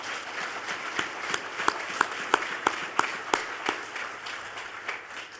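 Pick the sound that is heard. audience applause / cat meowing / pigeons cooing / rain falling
audience applause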